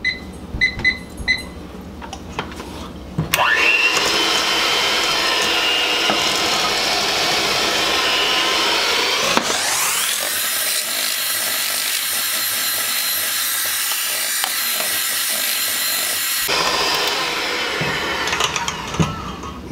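Electric mixer running on low speed, beating egg mixture into a cake batter, a steady whirring drone that holds for several seconds, then shifts to a thinner, higher whine before stopping.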